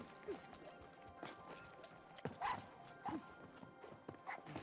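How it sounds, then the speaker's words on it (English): The dog character in the video game It Takes Two barks and runs, giving a few short yips and scrabbling footfalls against game sounds, fairly faint. "It's Moon Moon the dog!"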